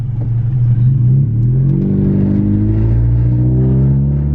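A Honda CR-V with an automatic transmission accelerating hard, its engine droning loud and close as the pitch climbs steadily and drops back at each gear change, heard from inside the car.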